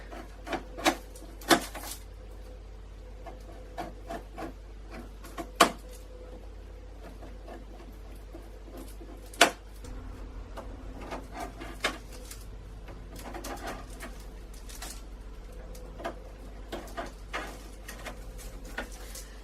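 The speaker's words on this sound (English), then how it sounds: "So now we're going to cut these into roughly 1 centimetre thick slices." A knife cuts baked funfetti biscotti into thick slices on a board, giving sharp, sparse crunching taps at irregular intervals over a quiet background hum.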